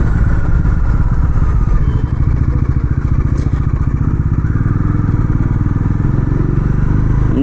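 A Bajaj Pulsar NS400 motorcycle engine runs steadily up close, with a continuous rhythmic low thrum that holds throughout without pause.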